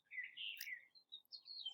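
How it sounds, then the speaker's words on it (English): Small birds chirp and tweet outdoors in a quiet backyard, a few short bright calls spaced irregularly, fairly faint against a near-silent background. "You can hear the birds chirping."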